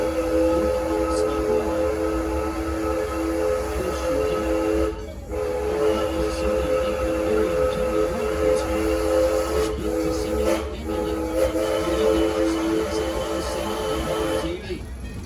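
A Six Flags & Texas Railroad theme park steam train approaches, its steam whistle sounding in long, loud, steady chords with brief gaps, over the rumble of the rolling train.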